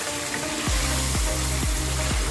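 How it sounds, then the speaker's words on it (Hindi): Chicken shinwari sizzles in oil in a pan as it is fried, a steady hiss with regular low pulses, close and continuous with no talking. "इसको 4 से 5 मिनट तक मज़ीद जो है इसकी भुनाई करनी है"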